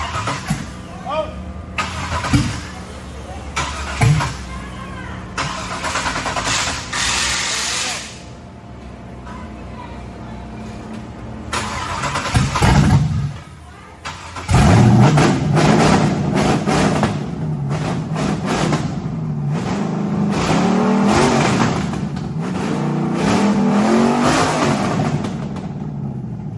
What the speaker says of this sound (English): Yeah, crank it up. Fire them one time.